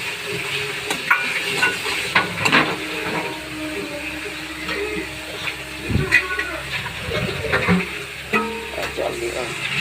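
Water poured into masala frying in oil, hissing and sizzling with spoon clinks and stirring knocks, under a constant background hum, with a voice talking at times.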